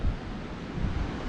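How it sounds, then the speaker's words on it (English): Ocean waves on a tropical Nicaraguan beach, a brief low rumbling wash of surf mixed with wind buffeting the microphone, no voices. "That's a beach."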